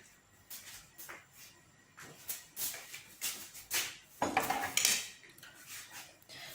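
A knife taps and scrapes repeatedly across ghee-coated lachha paratha dough on a hard surface, making crisp, close clicks and scraping strokes in an uneven rhythm, with a brief louder clatter near the end.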